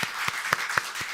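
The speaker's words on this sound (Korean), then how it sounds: "축복하는 박수 한번 하겠습니다" Scattered hand claps from a church congregation during a Sunday morning service, a few louder individual claps standing out over a steady wash of applause, fairly quiet and brief.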